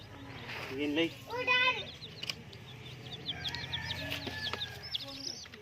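Hens cluck and chatter in short bursts at moderate distance, with a steady low hum beneath and some background voices.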